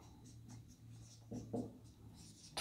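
Pen or pencil writing by hand on paper while noting a Class 10 maths test, with a few short scratchy strokes close by and quiet background hum, no talk.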